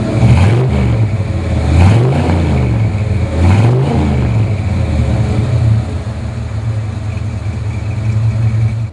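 A 1967 Toyota FJ40 custom Land Cruiser's engine revs hard while driving wide open, climbing and dropping in repeated loud surges over a constant rumbling drone, with no voices.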